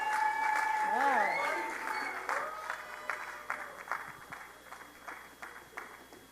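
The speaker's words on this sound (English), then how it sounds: "why is the clapping stopped?" Audience clapping at a panel event on women and an ancient religion, fading out over a few seconds into scattered claps, with voices and cheers mixed in at the start.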